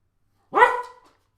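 A single close dog bark, sharp and loud, cutting through an otherwise quiet indoor room and tailing off quickly.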